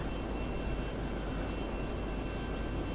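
F-22 jet engine held at half throttle in the flight game Total Air War, a steady, broad airplane roar and hiss that stays constant and unbroken throughout.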